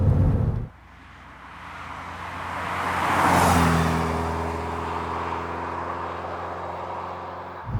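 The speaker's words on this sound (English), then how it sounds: "it's absolutely joyous to just pedal down a road at a pretty good lick" A 1988 Porsche 944 Turbo S driven briskly on a road, its engine a steady droning hum that builds to a whooshing peak and then holds under continuous road and wind noise.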